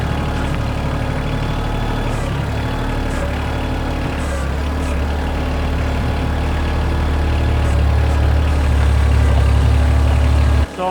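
A compact tractor engine runs steadily while pushing forward with its front bucket tilted slightly down, a loud, continuous low diesel drone that swells a little toward the end before cutting abruptly.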